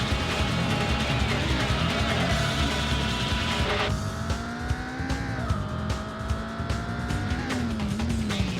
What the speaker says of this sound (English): The engine sounds, they were crunchy, but they still had attitude.